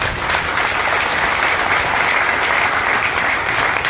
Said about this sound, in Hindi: उनके लिए तालियां निकालें।